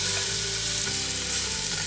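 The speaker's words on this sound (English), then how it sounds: "let's start with the beef here and get it into our pot" Beef browning in a hot pot for a beef barley braise, a loud, dense, steady sizzle of frying meat close up, with faint stirring scrapes and no talk.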